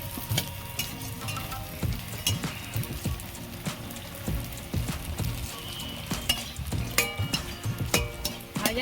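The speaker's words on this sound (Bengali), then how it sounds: "কড়া গরম হয়ে গেছে তেল দেব তেল গরম হয়ে গেছে আমি এগুলো ভেজে নেবো" Flour-based vegetarian snacks fry in hot oil in a kadai over a lit stove, with a steady crackling sizzle and frequent sharp spatters and pops, close and fairly loud throughout.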